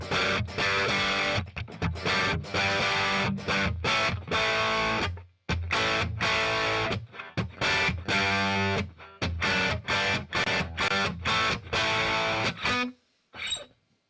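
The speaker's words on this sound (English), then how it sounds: "Now we're on the Brit 800 amp model, and it sounds like this." Distorted electric guitar plays a classic rock riff through a VOX Cambridge50 modelling amp set to the Brit 800 model, loud and chopped into rhythmic chord stabs with short gaps, ringing out alone before ending.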